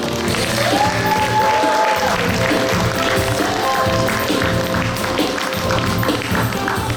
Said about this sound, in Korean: 여러분의 뜨거운 박수 함성으로 시작하겠습니다